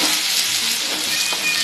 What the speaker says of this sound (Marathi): आता मी टाकून घेते टोमॅटो आणि अद्रक लसूणची पेस्ट.